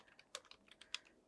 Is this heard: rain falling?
no